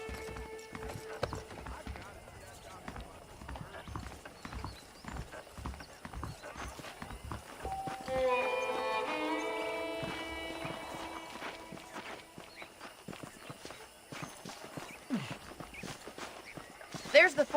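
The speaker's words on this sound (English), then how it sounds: "The horses are saddled up over here." Hooves clip-clop at a walking pace while a horse whinnies in the video game Red Dead Redemption, with someone talking over the steady hoofbeats and background game music.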